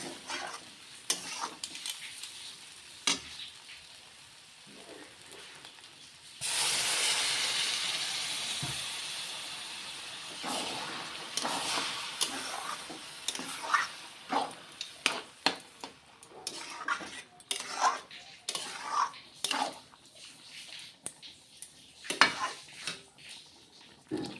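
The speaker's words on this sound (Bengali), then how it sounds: "এখন এতে জল দিয়ে দেব।" Water poured into a pan of spiced dal tarka on the stove, setting off a sudden loud sizzling hiss that gradually settles into bubbling and stirring scrapes.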